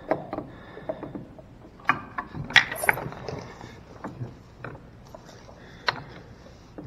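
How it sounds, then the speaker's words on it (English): Scattered plastic clunks and clicks come from a filter being pushed back into an auto scrubber during maintenance, close by with short irregular knocks and no talking. "Put your filter back in"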